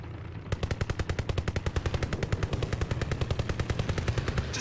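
Anti-air gun in a WWII video game, firing a long, rapid, evenly spaced stream of loud close shots that holds steady for several seconds.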